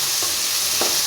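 Chickpeas frying in a pan give a loud, even sizzle with two soft stirring scrapes.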